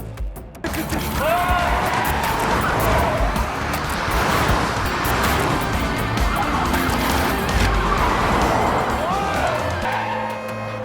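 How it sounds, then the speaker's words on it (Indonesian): Cars racing in a street chase scene from a film, with a continuous loud engine roar, squealing tyres and whooshing passes, and a voice talking over the action. "aksi balapan di jalan pun tidak terhindarkan"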